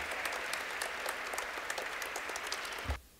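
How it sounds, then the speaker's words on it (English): Steady audience applause fills the room, dense and continuous, then cuts off abruptly near the end. "you can applaud for George."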